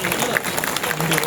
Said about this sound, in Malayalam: കയ്യടി പോരട്ടോ.